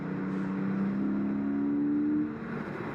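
A Porsche 718 Boxster GTS 4.0-litre engine revs with a smooth, rising howl that holds steady, then eases off, heard at moderate distance.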